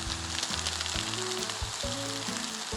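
Green onions sizzle and crackle in hot oil in a ramen pan, a steady close-up frying hiss with soft pops throughout and no voices.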